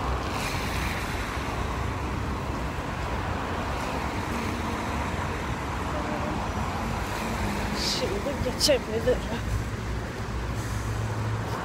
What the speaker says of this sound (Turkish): Burada arabalar çok kötü, su fışkırdığı için üzerimize.